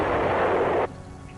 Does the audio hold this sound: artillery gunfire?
yes